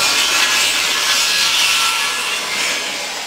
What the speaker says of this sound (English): You're making some plugs for the end of this pole.